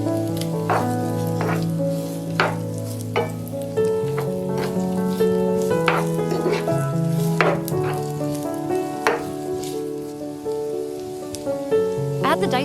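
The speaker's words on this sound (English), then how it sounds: "toss in the softened dried shrimp and stir for about a minute" Softened dried shrimp and corn are stir-fried in a hot pan for Vietnamese street-food corn. A steady sizzle and crackle carries throughout, with frequent stirring scrapes, all under a prominent melodic music track.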